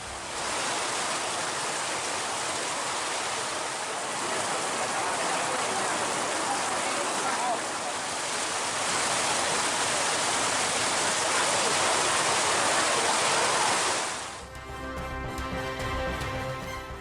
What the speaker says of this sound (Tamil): திருவள்ளூர், திருவண்ணாமலையில் வெளுத்து வாங்கிய கனமழை